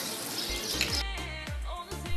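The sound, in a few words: free public shower running water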